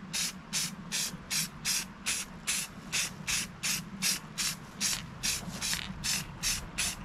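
Rust-Oleum metallic spray paint hisses onto the hubcaps of a Scotts 15/42 lawn tractor in about fourteen short, evenly spaced bursts, close and steady.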